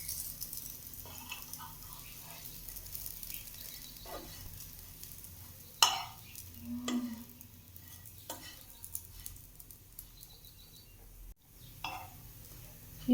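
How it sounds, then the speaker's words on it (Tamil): Chickpea patties roast in a pan with a soft, steady sizzle running throughout, broken by a few sharper clinks and scrapes of a utensil against the pan; no one speaks. "கொஞ்சம் நேரம் நல்லா ரோஸ்டடாக வேகணும்"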